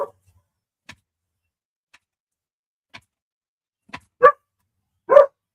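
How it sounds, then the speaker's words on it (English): A dog barks indoors in two short, sharp bursts near the end, after a few faint ticks and taps in an otherwise quiet room. "the doggy going off"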